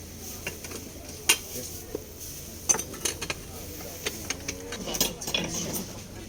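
Light metallic clinks of cupronickel forks, scattered irregular taps and chinks close by at a flea market, with faint rustling in between.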